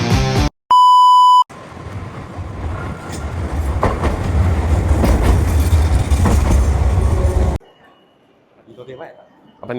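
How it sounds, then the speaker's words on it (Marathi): A train stands at platform 1 of a Japanese railway station on the way to Miyajima. An electronic chime and beeps come first, then a loud, steady rumble of the train, which cuts off into quieter station ambience. "आता 1 नंबरचा प्लॅटफॉर्म मध्ये आमची ट्रेन आहे."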